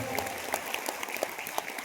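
Audience applause at a large motivational gathering in Surat, a steady patter of many hands clapping with scattered sharper claps throughout, fairly close and without a break.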